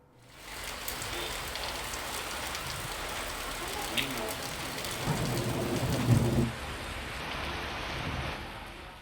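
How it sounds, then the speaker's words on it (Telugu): Heavy rain during a hailstorm with thunder in Telangana, a steady dense patter that swells louder in the middle with a low rumble, close and continuous. "ఈదురుగాలులు, ఉరుములు, మెరుపులతో కూడిన చిరుజల్లులు కురిశాయి"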